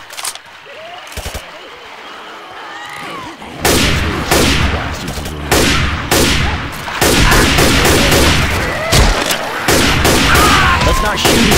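Gunfire in the zombie co-op shooter Left 4 Dead 2, starting with scattered single shots and building into heavy overlapping volleys, loud and close, with players shouting over the shooting.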